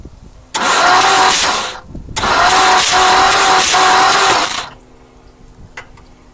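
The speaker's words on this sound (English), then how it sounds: "We're going to turn the motor over." A 1959 Mercury Monterey engine, left sitting for a decade and with no spark plugs fitted, being turned over by the starter in two loud, steady cranking bursts of about one and two and a half seconds with a brief pause between.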